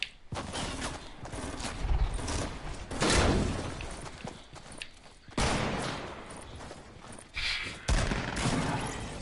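Shotgun blasts in Fortnite, several loud, heavy booms spaced a few seconds apart, each with a short, rough decay, amid ongoing game noise.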